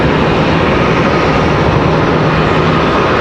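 A Southwest Airlines jet airliner roars close and loud at Charlotte Douglas airport, a dense, unbroken engine rush with no talk over it.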